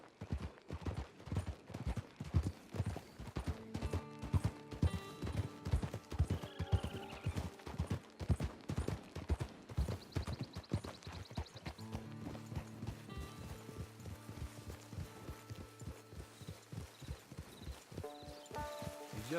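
Steady clip-clop of horse hooves walking in Red Dead Online over a bed of music, with a brief whinny partway through; no voices.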